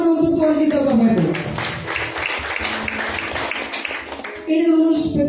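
Congregation in a church clapping in a sustained round of applause, bracketed at start and end by a voice speaking over the room.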